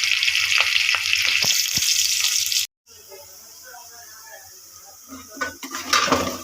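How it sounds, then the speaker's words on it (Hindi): Onions hit hot oil in a pan for dhaba-style moong dal fry, giving a loud, steady hiss of sizzling that cuts off abruptly, followed by quieter kitchen clatter and faint crackling. "तो ये देखिए हमने प्याज ऐड कर दी, ऑयल गर्म हो चुका था।"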